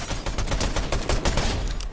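Rapid close gunfire in Fortnite: a dense, loud burst of shots firing in quick succession throughout, with no talk.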